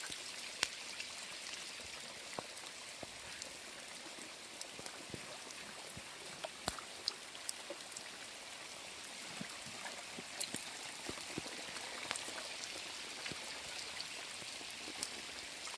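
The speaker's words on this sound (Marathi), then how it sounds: "आता तर लय जोरात आलाय पाऊस." Heavy rain falls on a hillside, a constant soft hiss of drops with scattered sharper patters on nearby surfaces, steady throughout at a low level with no talk.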